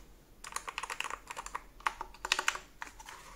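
Quick, light, clacky keystrokes come from typing on a MonsGeek MG75S Hall Effect keyboard, a lightweight mostly plastic board, in a steady close-up run with a few louder bursts and no voices.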